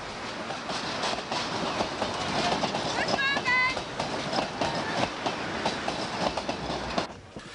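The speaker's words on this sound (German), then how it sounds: "ein Containerzug vom Lehrter Güterbahnhof in Bewegung." A container train from Lehrter Güterbahnhof, carrying a Berlin S-Bahn class 480 quarter-train car in 1988, rolls past with steady clickety-clack wheel beats and a brief squeal of wheels midway, loud and continuous.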